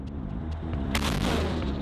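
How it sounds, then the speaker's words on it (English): Soviet-era Grad multiple rocket launcher firing in the Donetsk region, a dense roar of launches and booms that swells loud near the midpoint and keeps rumbling, with no talk. "Ukrainian soldiers in the Donetsk region are using Grad, a multiple rocket launcher from the Soviet era."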